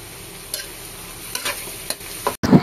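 Pork intestines sautéing with onion and garlic in a pan give off a steady close sizzle, broken by a few louder stirring scrapes, with no talking.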